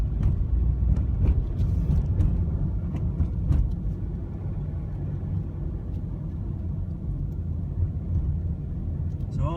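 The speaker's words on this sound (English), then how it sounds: "there's a car. It's not a very wide road." A car rolls along a narrow road with a steady low engine rumble and road noise heard from inside, plus some muffled knocks and wind buffeting, and the level stays fairly even throughout.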